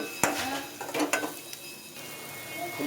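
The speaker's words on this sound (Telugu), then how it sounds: "బాగా కలుపుతున్న కెరపాకు రైస్ని బాగా పచ్చివాసన పోయేంత వరకు మనం కలపాలన్నమాట" Curry leaf rice being stirred in a pan: a few sharp scrapes and clinks of a utensil against the metal, with soft sizzling underneath and a faint voice in the background.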